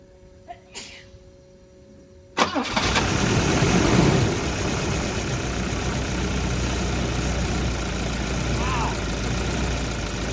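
After a quiet moment with a couple of small clicks, the engine of an abandoned Volvo 242 cranks and catches abruptly, then settles into a loud, steady idle that continues.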